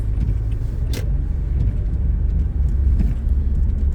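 A car rolls off on a wintry, icy road after the parking brake is released and it is shifted into drive, with a low steady engine and tyre rumble close by and a brief sharp click near the start.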